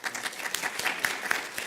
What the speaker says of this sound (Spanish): a quien pido un caluroso voto de aplauso